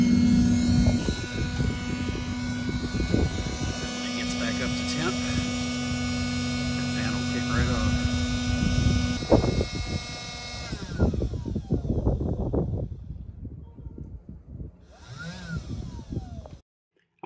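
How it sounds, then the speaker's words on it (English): A BBQ temperature controller's fan, switched through a PID and SSR, blows air into the fire with a steady whirring hum and a faint tonal whine. The drone runs for about nine seconds, followed by rougher clattering noise. "And now the fan's feeding the fire and bringing the temperature right back up."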